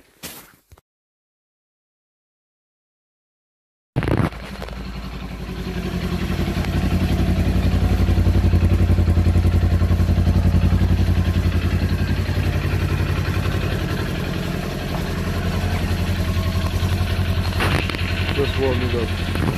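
A Kawasaki Ninja 400 motorcycle starts after a brief silence and settles into a steady, close idle as the engine warms up, a continuous low rumble with a slight swell before easing.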